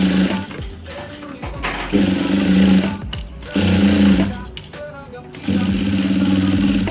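An electric sewing machine stitches a corporate uniform shirt in steady whirring bursts that start and stop several times, loud and close, with brief quiet gaps between runs.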